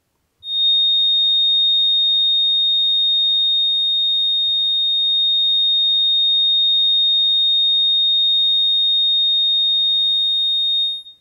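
A tone generator plays a pure, steady 3699 hertz tone for a cymatics experiment. The loud, unbroken whine rises abruptly, holds for about ten seconds and then cuts off, heard alone.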